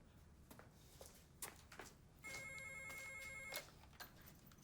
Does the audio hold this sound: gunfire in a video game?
no